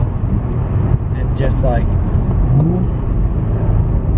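An Infiniti G35 cruising on back roads, its engine and road noise a steady, close drone inside the cabin, with a driver talking over it.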